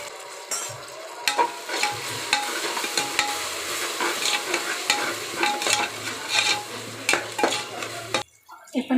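Ginger garlic paste stirred into golden-brown fried onions for chicken donne biryani: a loud hissing sizzle broken by repeated metal spoon scrapes and clinks against the pan, ending with a brief quieter moment.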